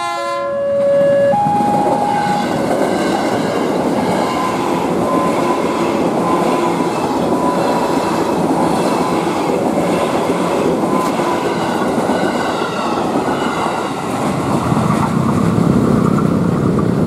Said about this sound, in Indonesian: Tunggu ada kereta lagi.